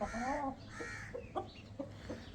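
A large, hefty rooster crows loudly and close by, a drawn-out wavering call followed by several short clucks and cackles.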